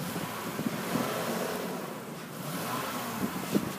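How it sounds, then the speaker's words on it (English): A 2002 Lexus ES 300 with a very weak battery idles steadily outdoors, its low, even engine hum partly masked by gusting wind noise across the microphone. "I'm going to let you listen to the engine."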